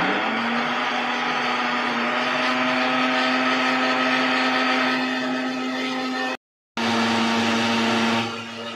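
A mixer grinder whirs steadily while grinding spices for masala, a loud continuous motor hum that cuts out briefly then restarts and winds down near the end.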